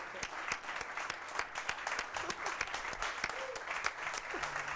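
A startup event crowd in Barcelona gives a standing ovation for a speaker, dense sustained clapping at a moderate distance with sharp individual claps throughout and a few voices faintly mixed in.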